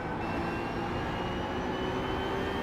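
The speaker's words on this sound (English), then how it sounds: "Faster car coming up quick. Left side." Race car engine from a racing video game at Watkins Glen, a steady loud drone with rising whine as a faster car closes in from behind, continuous without talk.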